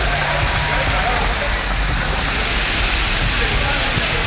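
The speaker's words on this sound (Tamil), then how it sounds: "காற்றுடன் கனமழை கொட்டி தீர்த்தது" Heavy rain driven by strong wind in Tindivanam, Tamil Nadu, roars as a dense, steady wash of noise, loud and unbroken throughout.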